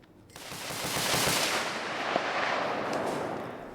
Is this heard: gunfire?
yes